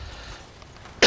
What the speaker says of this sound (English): And I now clear my throat.